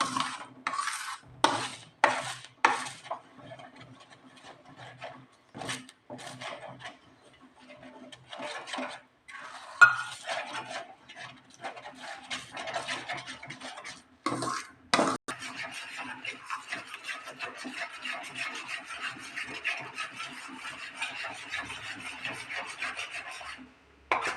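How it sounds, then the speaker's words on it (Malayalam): A spatula scrapes and rubs repeatedly against a pan as thick tender coconut halwa is stirred, irregular rasping strokes with occasional sharper clinks, close and alone. "പാത്രത്തിൽ നിന്ന് വിട്ട് ഓരുന്നവരെ ഇളക്കിക്കൊണ്ടിരിക്കണം"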